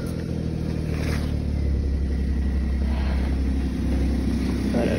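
A car engine revs steadily on a snowy road in winter Iceland, its drone loud and continuous with a rising rev near the middle, consistent with wheels spinning and slipping on snow.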